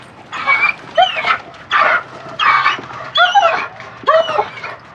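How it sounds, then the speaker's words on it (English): A police dog barks repeatedly in loud, close bursts during a police search of a yard, about six rhythmic barks mixed with whining yips. "We'll send the dog to fight you and bite you."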